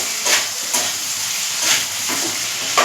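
Soybean chunks frying with whole spices in a pan, a steady close hiss of sizzling oil with a few soft stirring scrapes at intervals.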